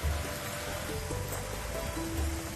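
Heavy monsoon downpour falling on the spire of Somnath temple, a steady dense hiss of rain at moderate level with no clear breaks.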